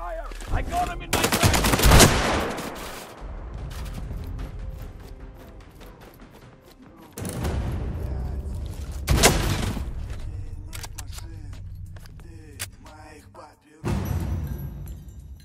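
Gunfire in the video game Sniper Ghost Warrior 3 at an enemy outpost: loud, close bursts of automatic fire and single sharp shots with echoing tails, separated by quieter stretches.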